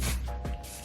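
A short hiss of Sebastian Shaper hairspray misted onto a curl, a brief close aerosol burst with a slight second puff.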